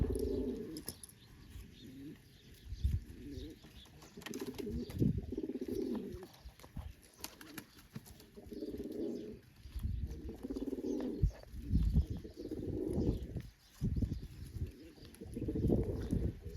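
Repeated soft, low pigeon coos rise and fall throughout, several birds calling in overlapping phrases, with occasional rustling and wing flaps nearby.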